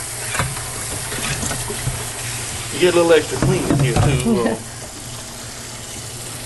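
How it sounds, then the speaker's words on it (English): A wand sprays cold water over frozen shrimp in a colander, a steady hissing rush that runs throughout while someone speaks briefly over it. "I just spray cold water over them in a colander"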